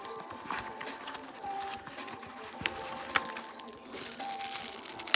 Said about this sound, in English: A little pouch. Let's unwrap it.